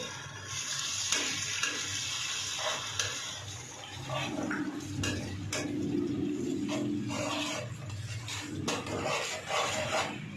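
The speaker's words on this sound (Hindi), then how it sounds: "हमने जो प्याज डाले थे उसको हमने भून लिया।" Sliced onions for a pyaaz gosht curry fry in a pan. A soft, steady sizzle runs under clinks and scrapes of a spoon against the pot, quiet and close.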